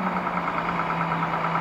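A knocking diesel locomotive engine passes nearby with a steady, loud mechanical drone and a constant low hum. The sound is short and continuous, with no talk.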